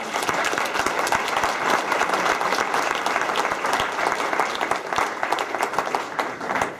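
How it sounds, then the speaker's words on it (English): An audience at a forum honoring Dr. Martin Luther King gives a sustained round of applause, dense and even crowd clapping lasting several seconds. "can we please give a round of applause to Dr. Martin Luther King?"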